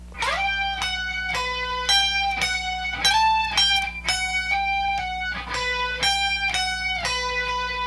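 Slow, deliberate electric guitar phrase from a guitar solo, each note picked or slurred clearly with sustained ringing tones and a held note closing the run, steady hum underneath.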